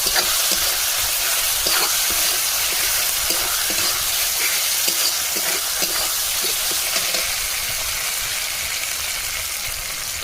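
Spice paste with chopped tomato, salt and turmeric frying in a pan for chicken curry, a steady loud sizzle and crackle running throughout with faint stirring scrapes and no voices.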